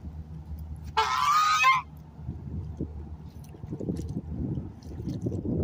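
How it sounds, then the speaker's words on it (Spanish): A flock of geese honks loudly in a short burst near the start, followed by quieter rustling and low background noise. "que qué lindos los gansos, míralos."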